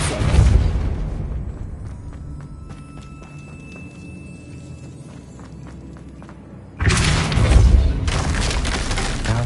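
A Depulso spell cast in the video game Hogwarts Legacy lands as a loud, booming thud with a brief rumble, then quiet ambience and a second heavy impact burst.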